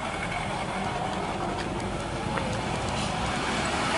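Steady road traffic noise from a jam on a downhill curve, with car and truck engines idling and rumbling close by at a constant level, no talking.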